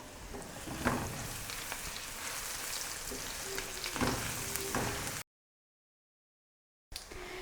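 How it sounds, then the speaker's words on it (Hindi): Ginger-garlic paste fries with browned onions over a lowered flame, giving a soft, continuous sizzle with occasional stirring scrapes, then a brief silence before the frying returns. "इसको भी हम प्याज के साथ ब्राउन कर लेंगे।"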